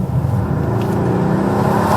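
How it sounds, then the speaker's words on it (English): A Mercedes-AMG GLC 63 from 2018 with a 4-litre twin-turbo V8 revs loud and close, giving a steady deep rumbling engine note that swells slightly toward the end, with no talk. "That 4-litre twin-turbo V8 that this car uses"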